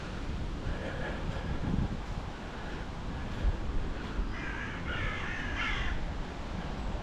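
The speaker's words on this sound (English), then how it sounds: "There's a lot of crows" Crows caw in a few scattered bursts across the grounds of Brompton Cemetery, over a steady wash of wind and distant city noise, moderately far and faint.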